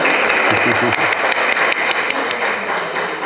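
Dense, steady applause from a crowd fills the whole stretch, with a murmur of voices beneath it.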